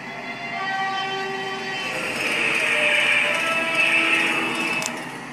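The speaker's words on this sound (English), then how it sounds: "What does this horn sound like with the Doppler effect working?" A tram rumbles past with a sustained, steady horn blast that swells and fades with the Doppler effect, loud and close.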